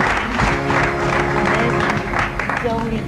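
Audience applause at a gathering with a ghazal singer, steady clapping throughout with a voice talking over it.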